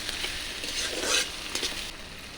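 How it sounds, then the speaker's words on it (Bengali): Spices fry with turmeric powder and salt in a pan, a dense steady sizzle with soft scraping as they are stirred, close and unbroken by speech. "এগুলি একটু নেড়ে চেড়ে ভালো করে ভুনা করে নিতে হবে"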